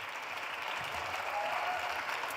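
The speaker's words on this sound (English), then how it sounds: "Another round of applause." Applause fills a symposium hall as the audience claps steadily for speakers leaving the stage, an even wash of many hands that sounds soft and somewhat distant, with no voices.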